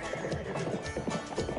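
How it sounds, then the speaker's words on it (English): Racehorses gallop around an oval dirt track a little over a mile long at a race meeting, with rapid, drumming hoofbeats close by, a horse's whinny and snorting breaths, and busy crowd-like noise underneath. "The horses race around an oval track, a little more than a mile long."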